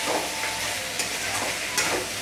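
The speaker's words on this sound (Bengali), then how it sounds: "এবার অল্প পরিমাণে এক চামচের মতো আমি আদা বাটা দিয়ে দিলাম, দিয়ে আমি একটু নেড়ে দিচ্ছি।" Fried cauliflower and potato with ginger paste sizzle steadily in a pan, while a spoon scrapes through in a few quick stirs, close and alone.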